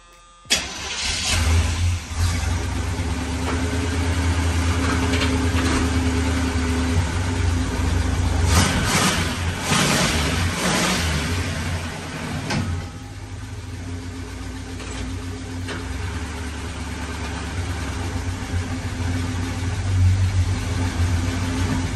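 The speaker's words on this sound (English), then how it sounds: "We revved it up, worked its way through the gears." A 1981 GMC Sierra truck engine, long left sitting, idles roughly close by and is revved in several swells over a steady rumble, with no talk.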